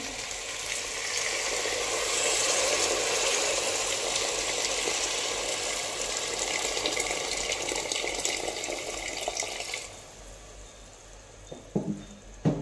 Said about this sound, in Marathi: आता पहा यामध्ये पाणी घालून घेऊया.